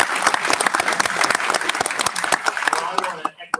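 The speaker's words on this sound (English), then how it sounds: "Give him a nice round of applause." An audience at an IoT event at Sweetwater in Fort Wayne, Indiana, claps for the speaker Cliff, loud and close, then fades out near the end, with a voice speaking over it.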